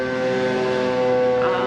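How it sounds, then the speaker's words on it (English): A loud civil defense siren in Japan sounds a sustained, steady wail, heard outdoors at the tail end of its call with no talk over it. "Just had this really loud siren go off, like really loud. This is just the end of it,"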